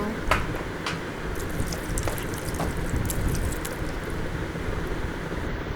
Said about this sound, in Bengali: এখন একটু পানি দিয়ে দিব।